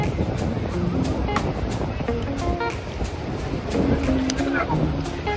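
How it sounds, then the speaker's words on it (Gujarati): Ocean waves surging at Suvali Beach, a broad rushing wash with wind buffeting the microphone, steady and fairly loud beneath voices chattering and calling in the background. "તમે 2 વાગ્યાના મોજા જોવો કેટલા બધા ઉછળા"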